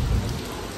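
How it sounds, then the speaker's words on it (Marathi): Heavy rain pours steadily during a bike ride, a dense, continuous hiss with a low rumble underneath, loud and close for the whole brief moment. "एकदम छान पाऊस चालू झाला, एकदम जोरात."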